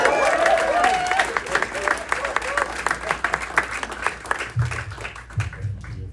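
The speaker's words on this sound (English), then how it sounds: "if everybody could please join me and give a big round of applause" An audience at a wellness center celebration breaks into sustained applause, steady dense clapping filling the room with a few louder claps standing out, continuing for several seconds without fading much.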